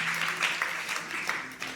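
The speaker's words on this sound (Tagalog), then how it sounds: "So sige, malakas na palakpak pa para kay Lord." A church congregation claps steadily at a worship service, a dense, sustained round of applause filling the room, with a few voices faintly audible underneath.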